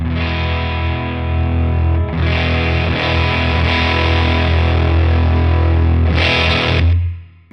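Loud distorted electric guitar chords ring out through an amp, swelling slightly in volume partway as a volume pedal moves from heel down (about half volume) toward toe down (full volume), before the sound cuts off at the end.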